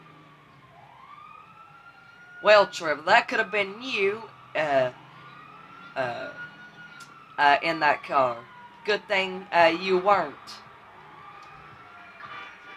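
Video game emergency vehicle sirens from a fire truck, ambulance and police wail steadily in the background, rising and falling, while someone talks over them in short bursts.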